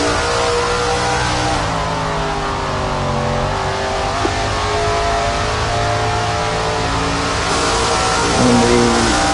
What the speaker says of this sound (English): You can hear Alan Bestwick over the engine noise